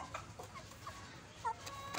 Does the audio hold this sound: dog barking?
no